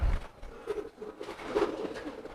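A domestic pigeon, the Putra Petir bird, coos loudly and repeatedly up close, its low throaty notes rising strongly toward the end, with some background noise.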